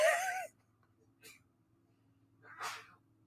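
A single soft sneeze sounds after a brief voice, followed by a quiet breathy exhale, fairly close and low in volume.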